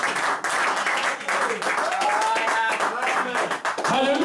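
A church congregation at an Easter service applauds and acclaims in dense, loud, continuous clapping, with voices shouting and calling out throughout.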